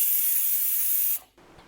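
A pressure cooker steaming veg pulao lets out a strong, steady hiss of escaping steam that cuts off abruptly, leaving a faint quiet tail.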